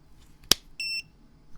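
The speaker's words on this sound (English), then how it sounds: "So it beeps at you" Gemini telescope focuser console powering up over USB, giving a sharp click followed by one short, bright electronic beep.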